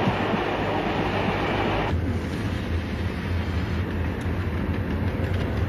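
A train rolls along the rails on the Ghan route north of Adelaide, a steady close rumble with rattling carriages and faint rhythmic clatter throughout.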